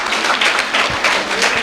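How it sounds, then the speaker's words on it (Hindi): Audience applause at a school Independence Day celebration, a dense continuous patter of many hands clapping at close range, steady and fairly loud throughout. "तो ताली हो जाए इनके लिए।"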